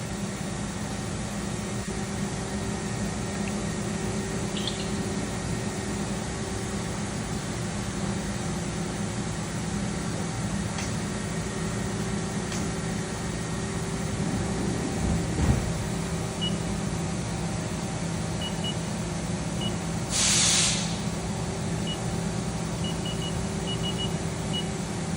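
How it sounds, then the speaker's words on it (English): A 2019 Haas ST-15Y CNC lathe with its sub spindle running: a steady, even mechanical hum with a faint high whine, continuous throughout, plus a brief hissing burst near the end. "Can you crank up the sub spindle?"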